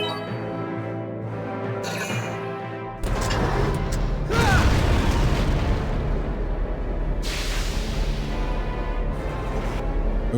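Tank main cannon firing in the video game Valkyria Chronicles: an abrupt heavy boom with a burst of debris and rumble, then a second blast a few seconds later over a background game score.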